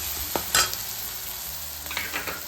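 Spice masala cooks in oil for an North Karnataka style moth bean palya, giving a soft sizzle with a few sharp scraping stir strokes near the start and again toward the end.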